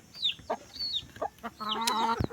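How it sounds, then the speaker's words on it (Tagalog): A red junglefowl being fed gives several short clucks and chirps, close and fairly soft, ending in a louder, longer call, with no talk. "Pakainin natin yung labuyo natin na bago."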